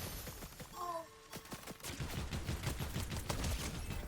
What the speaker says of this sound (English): Somebody was shooting at us, so.